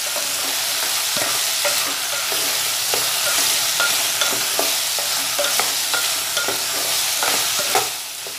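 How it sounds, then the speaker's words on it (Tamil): Sliced okra sautés in a pan with a squeeze of lemon for okra soup, giving a loud, steady sizzle broken by regular spoon scrapes and stirs, with no talking. "ஒரு 5 மினிட்ஸ் நல்லா வெண்டைக்காய் வதங்க விடுவோம்."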